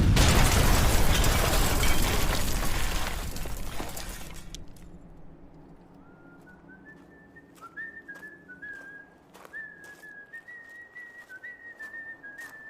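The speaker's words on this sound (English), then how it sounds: "After the explosions had died away" Loud, rumbling explosions roar for several seconds in an audio drama, then fade into quiet, followed by a lone person whistling a cheerful tune with faint clicks.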